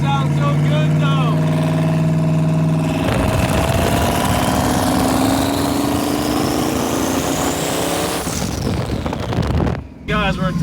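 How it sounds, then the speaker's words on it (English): A turbocharged car engine revs on a test drive, its pitch climbing steadily in a long, loud pull before dropping off sharply near the end. "Dang, them turbos sound so good though."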